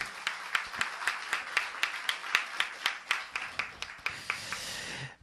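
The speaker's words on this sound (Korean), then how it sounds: "우리 하나님께 감사의 박수 올려드리겠습니다" A church congregation applauds after a prayer, steady rhythmic clapping from many hands at moderate volume, fading out at the end.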